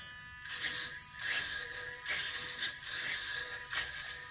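An RC glider's elevator servo, installed in a Samba Prestige 2PK F5J fuselage, whirs in short buzzing bursts, several quick movements repeating at close range with no talking.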